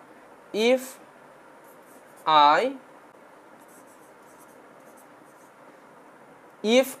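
A marker squeaks across a board in three short, sharp strokes separated by quiet pauses.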